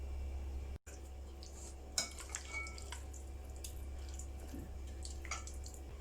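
Chicken is mixed by hand with tikka masala and yogurt in a bowl, giving soft wet squelches and a few light clinks against the bowl over a low steady hum, with no talking.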